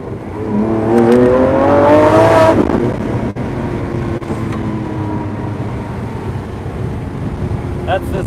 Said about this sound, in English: That's the sound of a naturally aspirated V12.